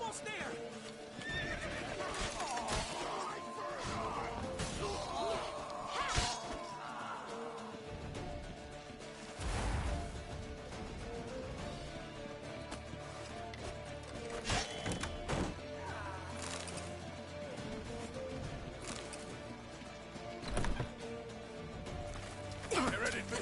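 In the video game The Witcher 3, a horse neighs and whinnies over clattering hooves. The sounds come amid a tense, noisy scene with thuds, movement and shouted voices, and several loud whinnies stand out over the ongoing commotion.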